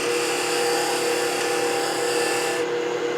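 A woodturning gouge cuts across the face of a spinning workpiece on a lathe, giving a steady, loud broadband rasp with no breaks, and the sound thins slightly near the end.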